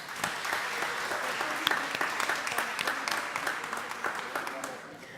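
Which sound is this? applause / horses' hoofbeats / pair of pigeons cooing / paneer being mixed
applause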